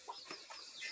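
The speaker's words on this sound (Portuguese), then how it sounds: "Acho que vem aqui galinha que vai botar aqui" A hen in a laying box gives a few soft, short clucks spaced through a brief, quiet moment, close by, with no talking.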